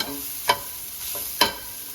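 Dal frying in oil for mani kozhukattai gives off a steady close sizzle, with two sharp spoon scrapes about a second apart and a softer stir between them.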